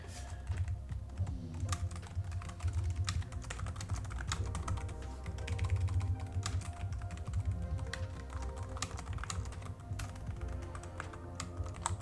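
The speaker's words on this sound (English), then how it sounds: "I'm sorry if the typing is really loud." Rapid, continuous typing on a loud, clicky computer keyboard during game development work in Unity, the keystrokes close and steady throughout with no talking.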